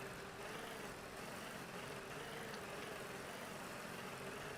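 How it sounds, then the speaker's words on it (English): A tractor engine runs in the Farm Expert 2017 video game, a steady low drone with a faint tonal hum, quiet and unchanging throughout. "Just trying not to damage my tractor here."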